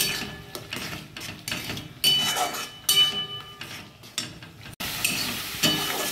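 Thick spice paste with a little sugar stirred and fried in a pan for katla fish kalia, a steady sizzle with scraping spatula strokes and occasional clinks against the metal, close and continuous.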